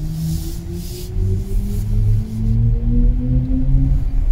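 A BMW iX40 driving in sport mode gives off a synthetic turbine-like drive tone, two steady tonal lines climbing gradually in pitch over low cabin rumble, with a brief hiss early on.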